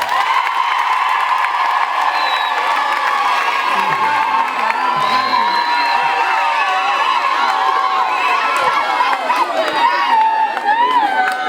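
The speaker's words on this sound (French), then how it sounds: "Est-ce qu'on peut acclamer très fort?" A large school crowd cheers, whoops and shouts loudly at a student government investiture at a lycée in Kisantu, a sustained roar of many young voices with high shrieks rising and falling throughout.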